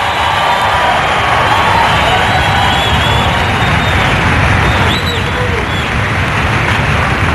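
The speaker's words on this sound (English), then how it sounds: "Crowd in anticipation right now of Brian Voss" A bowling crowd at the 1995 Players Championship waits in anticipation for Brian Voss, a steady, loud arena murmur of many voices filling the whole stretch without a break.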